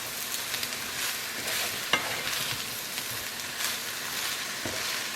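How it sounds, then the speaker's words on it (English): Red pepper is stirred into eggplant frying in a pan over medium-high heat for ratatouille, with a steady close sizzle broken by soft scraping stirs and one sharper clink. "So I'll add the red pepper and I'll just stir that in."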